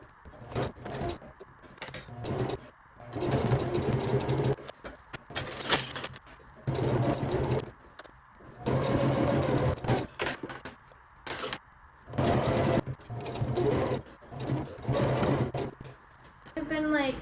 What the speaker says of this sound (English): we're gonna sew the quilt together